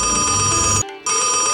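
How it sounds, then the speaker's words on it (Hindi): Loud electronic telephone ring, a steady tonal trill that cuts off briefly and then resumes, close and clear with no voices. "एक कंपनी का फोन आया।"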